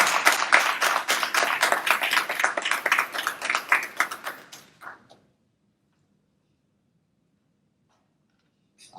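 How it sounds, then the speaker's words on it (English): A small audience claps for about five seconds in a room, welcoming a woman to the stage: dense, close-up clapping that fades out and leaves near silence. "Round of applause, please."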